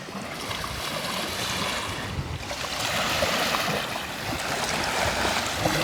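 Waves lapping steadily on the shore of Lake Peipus in Estonia, a continuous soft wash of water, fairly close and even in level, with no voices.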